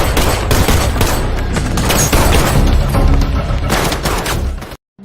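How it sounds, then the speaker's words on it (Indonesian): Intense gunfire in a film shootout, a loud, dense fusillade of overlapping shots and booms that runs almost continuously before cutting to sudden silence at the very end. "terlibat baku tembak sengit dengannya"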